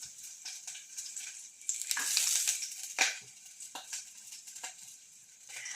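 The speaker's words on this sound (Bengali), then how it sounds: "এর মাঝে আমি একটু রসুনগুলো ছেড়ে দিব।" Garlic dropped into an already hot wok sizzles and crackles steadily, with a few sharp spatters and bursts of stirring while fish is stir-fried; no one talks.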